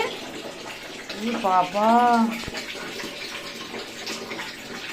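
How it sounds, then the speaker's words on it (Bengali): Water splashes and gushes as a basin is emptied in a home, one short pour under a voice and a brief spoken word. "ওর গামলার জল ফেলে দিও"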